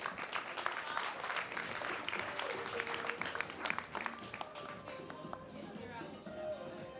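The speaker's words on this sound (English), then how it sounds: "Round of applause for the next panel, please." A conference audience gives a faint, distant round of applause for a panel, a continuous wash of clapping with voices mixed in.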